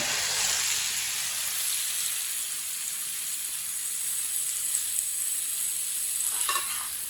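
Chopped cucumbers stirred in a pan for a salad, a steady broadband sizzle with scraping stirs near the end, close and continuous with no talk.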